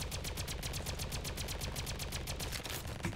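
Rapid, sustained raygun fire in the Roblox game Flag Wars, a fast stream of evenly spaced electronic shots running without a break and loud against a busy game backdrop.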